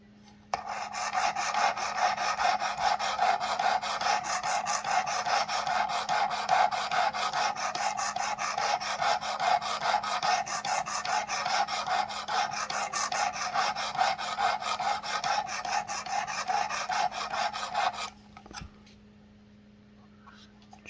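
Work Sharp Precision Adjust sharpener drawing its abrasive across a knife blade, a rapid rhythmic rasping that scrapes steadily for about seventeen seconds and then stops, close and clear.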